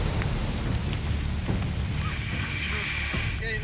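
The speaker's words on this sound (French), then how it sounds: "patientent depuis l'aube sous une pluie battante" Heavy tropical rain pounds down steadily in the French Guiana forest, a dense, even roar that fills the whole stretch without a break.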